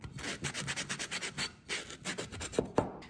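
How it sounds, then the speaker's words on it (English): Rhythmic back-and-forth rasping of sandpaper on wood, close up, with a couple of sharper scrapes near the end. "So the point of sanding these obviously is really just so nobody gets splinters or slivers."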